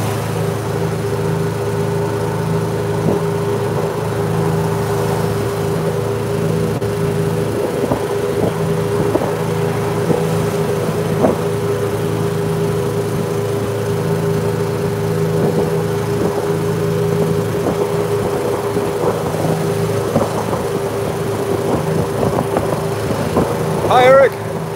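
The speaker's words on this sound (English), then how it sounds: "We are driving around Key West in a golf cart." A golf cart drives around Key West, its steady motor hum running continuously beneath frequent conversation and laughter from riders, with small bumps and rattles along the way.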